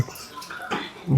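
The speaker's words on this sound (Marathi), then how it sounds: "हे दिसतंय तुम्हाला बा किती पाणी वाया चाललंय." Water overflowing and splashing while an air cooler is filled at home, a brief, close wet spatter and trickle with no talking.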